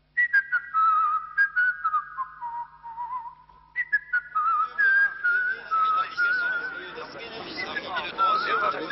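Whistling from a crowd at a Jean-Marie Le Pen political event, shrill sustained and wavering whistles rising and falling, joined by a growing babble of many voices that thickens into a dense hubbub in the second half.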